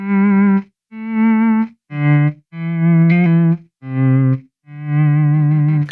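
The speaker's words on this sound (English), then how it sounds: "One thing I noticed he likes to do is volume swells." Electric guitar volume swells played with a clean tone, each sustained note or chord fading in gently with no pick attack, six bowed, cello-like swells in a row with small gaps between, close and alone.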